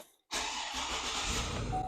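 A 259,000-mile Cadillac Escalade bought at auction cranks and fires up abruptly after a brief quiet moment, then settles straight into a steady, close idle.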